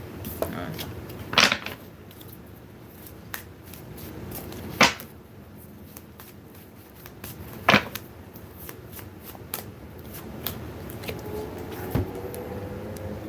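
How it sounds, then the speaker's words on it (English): Tarot cards shuffled and moved around on a surface during a reading: a few sharp riffling bursts spaced several seconds apart, with quieter card handling and faint shuffling in between. "I moved the cards around here."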